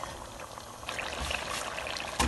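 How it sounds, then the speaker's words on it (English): Leftover water from cooking lamb chops poured into a pot for a lamb karahi, a steady close trickle and splash that grows louder partway through and ends with a brief heavier gush. "Now we're going to put in the leftover water from the chops."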